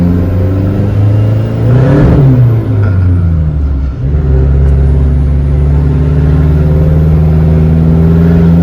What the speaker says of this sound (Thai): เกียร์หนึ่งนะ ออกตัวมีบูทเลยครับ